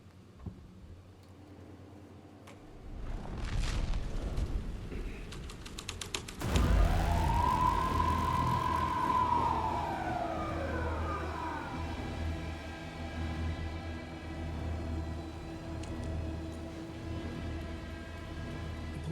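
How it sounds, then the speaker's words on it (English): A police car siren in the video game Alan Wake 2 rises into a long, loud wail that swells and then fades, over a continuous low rumble. "The police car was loud too."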